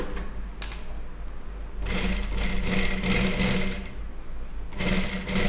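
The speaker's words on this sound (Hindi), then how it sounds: "हमें अब इस किनारे किनारे पे सिलाई को चला करके लेना है।" Sewing machine stitching along the edge of fabric while sewing a fancy neck design, a steady whirring motor run that pauses briefly and restarts, close and fairly loud with no talking.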